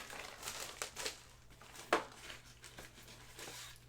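Paper envelope handled and crinkled during a basketball card group break: soft, close rustles and crinkles in scattered bursts, with one sharper crackle midway.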